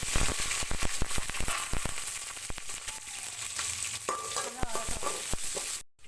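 Onion, garlic, green chili and curry leaves, added after fenugreek seeds, fry in hot oil for a fish curry, with dense close sizzling and crackling pops that last until an abrupt stop.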